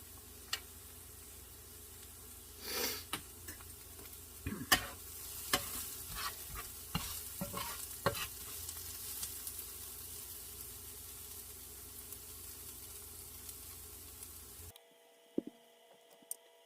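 Garlic sizzles steadily in a frying pan for a frittata, a close, even hiss broken by scrapes and clicks of stirring, running about fifteen seconds before cutting off to near silence.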